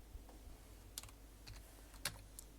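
Quiet, irregular clicks of typing on a computer keyboard, with a few sharper keystrokes standing out in a sparse, close-up tapping sequence.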